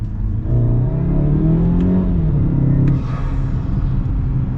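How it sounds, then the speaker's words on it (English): A modified turbocharged Mazda CX-5's engine revs and accelerates with a steady rumbling whir, then a brief blow-off valve hiss or whoosh as the throttle lets off. "I'm trying to get you guys the cool blow off noise."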